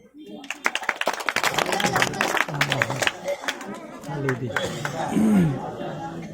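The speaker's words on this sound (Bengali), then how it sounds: "তালি দিয়ে একটু সাহায্য করা যায়।" An audience clapping at a roadside snake and mongoose show, bursts of sharp claps in a lively crowd with someone talking over them throughout.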